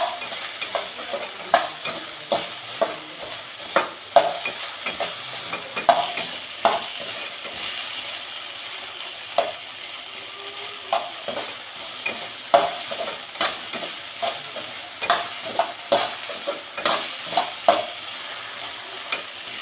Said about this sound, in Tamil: நல்லா எண்ணெயிலேயே வணங்கட்டும்.